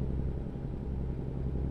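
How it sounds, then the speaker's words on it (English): Cummins N14 engine in a Peterbilt 389 truck in American Truck Simulator, a steady low droning rumble with the turbo spooling under load, continuous and even throughout, with no talking. "When the turbo spools up in this truck, it just sounds so good."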